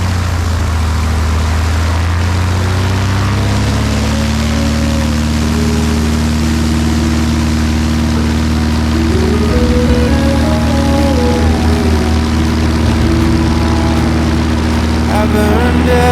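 Loud, steady engine drone of a bush plane taking off from a glacier in Alaska, its pitch rising as it powers up, with a constant propeller roar close by.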